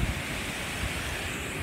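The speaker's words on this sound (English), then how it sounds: "Look at that waterfall." A giant waterfall in a canyon gives a steady, loud, broadband rushing roar with no pauses, heard alone with no voices.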